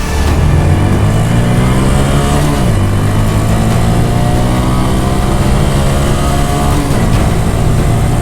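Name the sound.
Honda Monkey motorcycle accelerating hard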